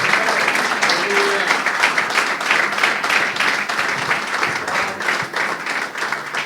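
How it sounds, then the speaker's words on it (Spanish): A church audience breaks into sustained applause, dense clapping that swells and carries on for several seconds. "Dale un aplauso al que vive, al que reina."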